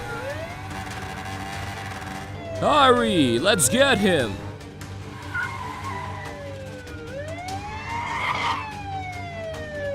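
A police car in the game Roblox wails its siren while chasing a scooter through Los Angeles streets, the siren rising and falling loudly and sweeping repeatedly, with a shouted voice over it.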